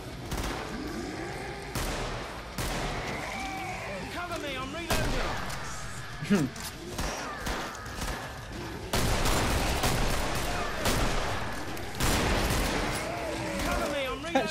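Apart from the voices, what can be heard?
shotgun gunfire in video game Killing Floor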